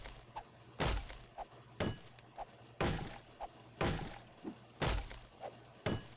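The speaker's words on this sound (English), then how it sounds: "Chop down already, tree." An axe chops at a tree in the survival game 7 Days to Die, giving a series of heavy, irregular wooden thunks and cracks spaced about a second apart, with lighter knocks in between.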